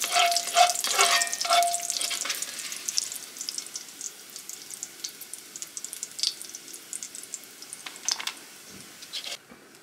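Crisp bacon sizzling and crackling steadily in a hot pan, with occasional scraping and stirring sounds from a utensil.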